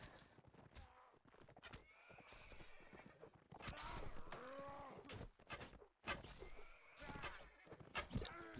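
Horses in a multiplayer video game neigh and whinny loudly, with clip-clopping hooves galloping underneath, several whinnies rising over the busy game mix while players chatter.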